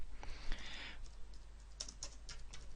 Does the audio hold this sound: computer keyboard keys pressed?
yes